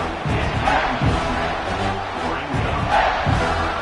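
Football stadium crowd roaring and cheering on a third down, continuous loud swelling noise with surges and a few thumps, typical of a video game broadcast.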